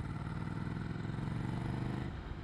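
Ducati Scrambler 800 Icon motorcycle with a Termignoni exhaust idling close by, a steady pulsing throb with a rhythmic low thump and mechanical clatter, no talk.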